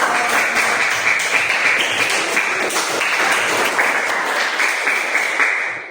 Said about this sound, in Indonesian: Baik, tepuk tangan untuk kelompok